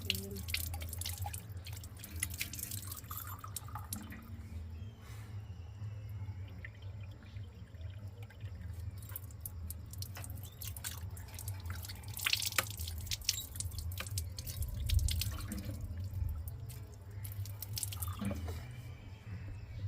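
A thin stream of water trickles steadily from a tap, with scattered drips and splashes over a low hum, faint and continuous throughout.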